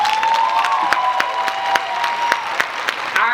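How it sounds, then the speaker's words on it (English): Parents, families and friends at a high school graduation ceremony applaud, a steady crowd wash with distinct sharp claps close by and a sustained tone running beneath. "To the parents, families, and friends, please give yourselves a round of applause."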